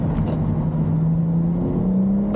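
A stage 1 tuned BMW accelerates at full throttle, its engine note a steady, loud drone that climbs gradually in pitch from inside the cabin, with no talking.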